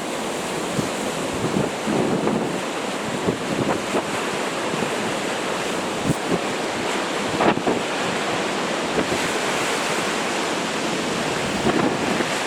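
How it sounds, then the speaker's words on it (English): Small waves wash and break repeatedly along a shore, with gusty wind buffeting the microphone throughout. "Yeah, some proper little waves there."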